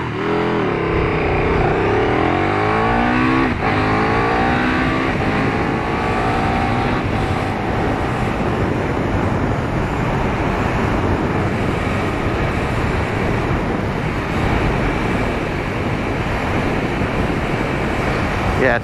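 A 2017 KTM Super Duke GT motorcycle cruising at speed, its engine drone with rising gear-change harmonics early on, then a steady loud roar mixed with heavy wind rush throughout.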